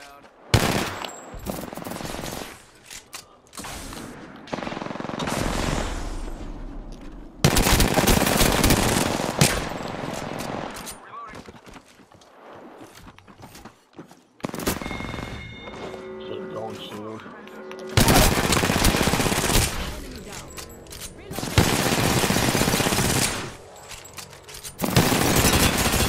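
Bursts of automatic gunfire from Apex Legends, loud and sustained in several long volleys with brief gaps, a player voice talking over parts of it.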